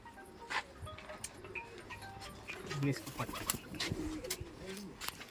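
Punjabi pigeons give soft, low cooing, with one fuller coo standing out midway over a busy background of faint chirps and ticks.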